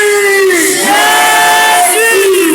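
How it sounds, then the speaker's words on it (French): A church congregation at an all-night prayer service shouts "Jesus" together in one loud, sustained, reverberant crowd cry that rises and falls. "Je veux que nous puissions crier Jésus."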